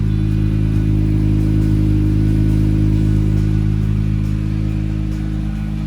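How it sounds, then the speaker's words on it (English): A 2017 Acura NSX idles steadily inside a shop, its engine giving a loud, even, continuous hum with no revving and no voices. "you can hear the car run"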